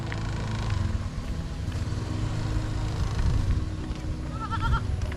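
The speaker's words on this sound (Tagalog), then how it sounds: "May kambing." A goat bleats briefly on a rural roadside near the end, a faint wavering cry over a steady background rumble of a nearby motorcycle engine.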